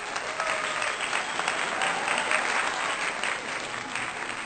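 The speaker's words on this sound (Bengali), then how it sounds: "সবাই একটু জোরে করে হাততালি দাও।" An audience claps loudly and steadily at a children's clay-modelling competition, a continuous wash of applause with no talk over it.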